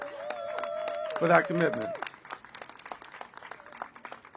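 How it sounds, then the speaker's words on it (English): An audience claps for Mayor Bowser at a public event, with scattered hand claps running under someone speaking and continuing as a patter of applause once his voice stops. "Let's give Mayor Bowser a round of applause"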